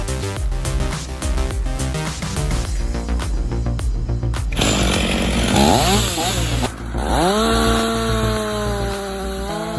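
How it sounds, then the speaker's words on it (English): A chainsaw roars loudly and continuously, its engine pitch rising and falling as it bites through a thick tree stump over a meter wide, with strained revving near the end. "With the Mississippi 500i chainsaw, the logger took down a massive tree stump over a meter wide"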